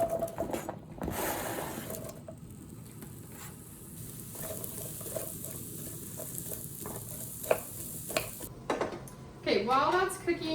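Onions cook in olive oil in a pan with a steady soft sizzle, punctuated by utensil stirring and scraping clicks, and a louder clatter of cookware near the end.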